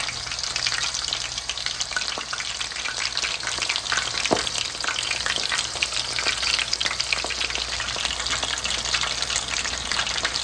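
Steady, dense crackling and bubbling of hot oil as frozen chicken katsu deep-fries, continuous and close, with a faint brief clink partway through.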